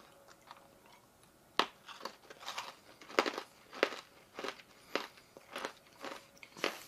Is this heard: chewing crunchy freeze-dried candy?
yes